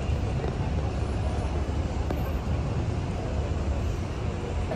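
Strong wind in New York City on a cold 14-degree day roars steadily and loudly into the microphone, a dense rumbling buffet that covers the whole stretch without a break.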